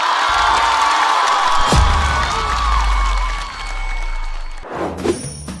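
Studio audience at a stand-up comedy show cheering and clapping, a loud sustained crowd roar with whoops that swells and fades before a brief lull.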